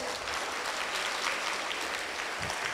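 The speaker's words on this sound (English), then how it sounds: "Let's give them a loud round of applause." A school audience gives dense, steady applause after a class assembly performance, a continuous, fairly loud wash of many hands clapping together with no talking over it.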